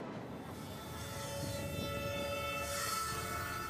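The Beast, a Mexican freight train, rolls past with a continuous rumble and rattling cars while a horn sounds steadily on top, loud and nearby, no voices.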